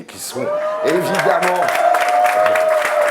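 An audience at a political campaign launch meeting in Ivry breaks into applause and cheering that swells and holds after a speaker's voice, loud and full.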